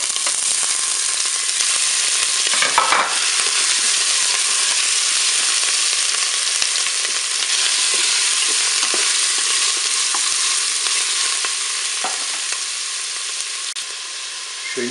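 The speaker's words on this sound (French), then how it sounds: "Je vais faire revenir mes boulettes de bœuf." Beef meatballs fry in hot oil inside a Cookeo multicooker, giving a continuous even sizzle with a few soft stirring knocks and scrapes along the way.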